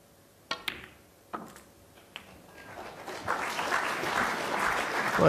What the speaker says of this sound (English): he gets some applause